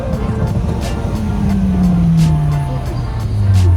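An Opel Corsa at a busy car meet revs loud and close, its engine note sliding steadily downward and then rising again, over crowd noise.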